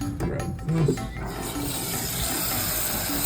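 Water running from a tap into a cooking pot, a steady, close hiss and splash that holds evenly to the end after a brief clatter at the start.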